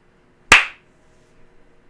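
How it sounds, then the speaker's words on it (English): A single sharp hand clap cracks close to the mic for a stream audio sync test, then quick quiet follows with only faint low rustles. "I'm going to do a clap test. When I clap, type now."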